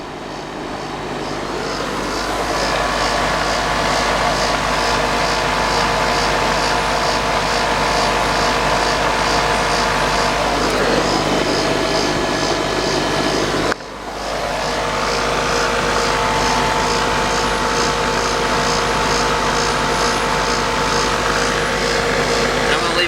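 Pool heater running as a heat pump, its fan blowing cold air in a loud steady whir with a brief dip partway through, and a person talks close by.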